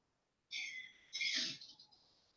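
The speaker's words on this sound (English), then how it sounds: "I have got to sneeze so bad." A single sneeze bursts out after a sharp intake, a close, breathy, hissing explosion followed by a trailing exhale, in an otherwise quiet indoor setting.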